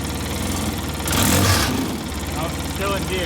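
A 2005 Polaris Ranger XP 700 utility vehicle engine idling steadily and a bit fast, with a brief louder surge midway, while a person talks nearby.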